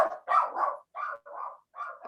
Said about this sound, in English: oh, there's a dog there